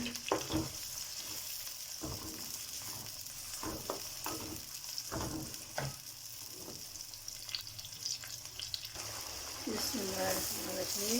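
Chopped onion frying in a pan for a Punjabi-style mixed dal, with a steady close sizzle, occasional stirring scrapes, and bubbling that grows louder toward the end.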